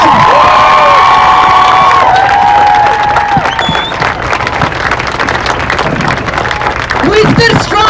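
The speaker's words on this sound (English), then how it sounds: "Give yourself a round of applause." A protest march crowd erupts in loud cheering, whoops and applause right up close, with shouting voices and whistles layered over continuous clapping.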